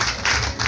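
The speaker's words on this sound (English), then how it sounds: "Please clap for yourselves." Audience clapping at a community gathering in Mbale, Uganda, heard as a short, steady wash of applause at close range with no pause.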